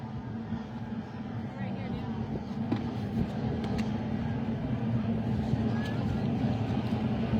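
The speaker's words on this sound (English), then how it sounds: "see if we can get a good shot of those boats as they go down across Burt Lake" Racing boats in the Top O Michigan Marathon head across Burt Lake from DeVoe Beach, their engines forming a continuous, heavy low drone heard from a distance at a steady level.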